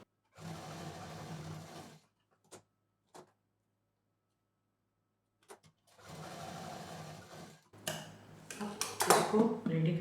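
A sewing machine runs a straight seam on fabric for a traditional potli pouch, whirring in steady bursts of about two and six seconds, separated by a quiet pause with a few faint clicks, then clattering more loudly near the end.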